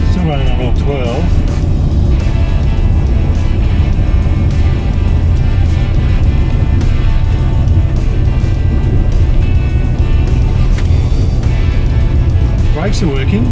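Jaguar XJS V12 engine from a barn find runs continuously with a loud, dense rumble close by, steady throughout while someone speaks briefly over it.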